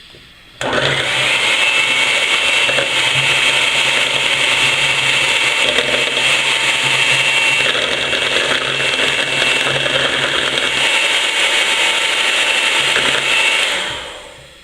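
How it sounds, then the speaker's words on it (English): An electric hand mixer switches on and whirs steadily at a high, buzzing pitch for a long stretch, blending pumpkin pie filling with maple syrup, then winds down. "I am going to blend it two-handed because otherwise it just wouldn't blend. Got the blender in my non-stung hand."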